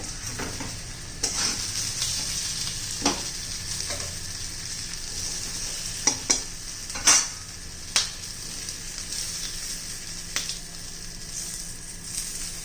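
Stuffed bell peppers fry in a covered pan with a steady sizzle, broken by a few sharp scrapes and knocks as they are flipped, close up with no talk.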